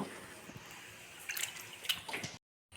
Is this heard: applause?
no